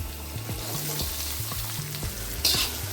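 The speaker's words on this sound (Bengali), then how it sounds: "এই দুটোকে দিয়েও ভেজে নেব রসুন আর আদার সঙ্গে" Chopped onion and capsicum fry with garlic and ginger in a pan, making a steady loud sizzle with soft rhythmic knocks from stirring and a brief hiss burst near the end.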